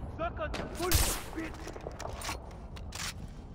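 Gunfire and sniper shots ring out in the video game Far Cry 3, a few sharp cracks and a burst of rapid shots over a faint background, with someone talking in between.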